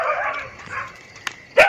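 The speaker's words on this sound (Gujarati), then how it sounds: "આ ગોમમાં હટકાયું કૂતરું થયું છે" A rabid dog in a village gives a short sharp yelp and then a louder bark near the end, over a faint murmuring background.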